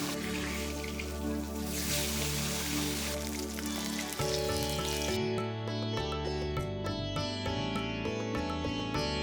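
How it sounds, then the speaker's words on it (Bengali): Fish head frying in hot mustard oil in a wok, a continuous crackling sizzle that is loud at first, settles slightly midway and then carries on with irregular pops. "একটা কড়াইয়ে সর্ষের তেল গরম করে সেটাতে মাছের মাথাটা মুচমুচে করে ভেজে নাও"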